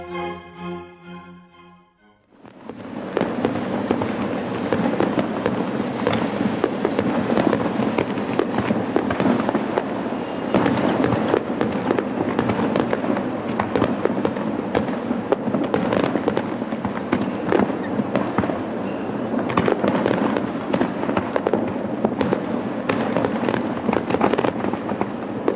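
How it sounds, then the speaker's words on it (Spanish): Continuous fireworks display with dense, overlapping bursts and crackling pops sounding loudly for over twenty seconds after a brief quiet start, the explosions coming in rapid irregular succession. "Las fotografías de fuegos artificiales gustan a todo el mundo."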